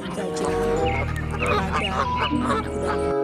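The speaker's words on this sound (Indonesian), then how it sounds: "ini hewan bebek." Duck quacking sound effect with a honking, goose-like tone, played while a toy duck is being cleaned, repeating through the moment over steady background music and voice.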